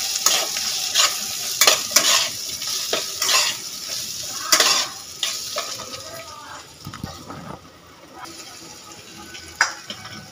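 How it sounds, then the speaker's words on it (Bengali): Chopped tomatoes and green chili being stirred and fried in a pan with spices, a steady sizzle under repeated scraping and clinking strokes of a spoon against the pan, fairly close and loud. "এখানে দিয়ে দেবো আমি এই টমেটো কুচোগুলো আর কাঁচা লঙ্কা, সবটা একসাথে দিয়ে খানিকক্ষণ আরেকটু নেড়ে নেবো"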